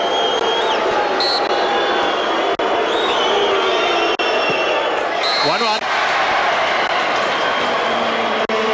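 South Melbourne supporters at a 1994/95 National Soccer League match, a loud, dense roar of stadium crowd noise held throughout, with a commentator talking over it and sharp bangs now and then.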